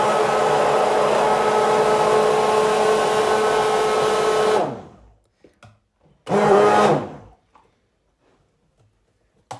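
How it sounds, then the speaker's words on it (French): An immersion blender whirring in a bowl of hot water with dish soap, a loud steady motor drone that cuts off sharply, then a second short burst after a pause, with small clinks afterward. "Je vais mettre le mixeur dans le bol à préparation eau chaude, surtout de l'eau chaude avec du liquide vaisselle."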